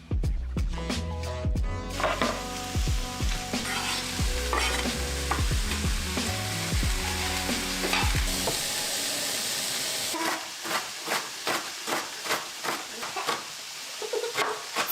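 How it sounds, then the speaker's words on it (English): Cubed celery root and other vegetables sizzle in a pan while being stirred, with frequent spoon scrapes and a steady close hiss that later thins into rhythmic stirring taps. "Saute for about another 2 minutes"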